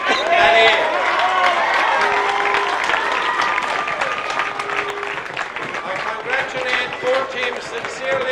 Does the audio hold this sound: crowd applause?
yes